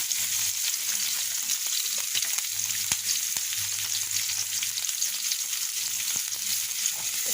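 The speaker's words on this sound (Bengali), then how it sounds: "একটা কড়াই দিয়েছি তাতে পেঁয়াজ কুচি দিয়ে দিয়েছি" Chopped onion in mustard oil in a kadai sizzles loudly and evenly throughout, a dense crackling frying sound with occasional light clicks of stirring.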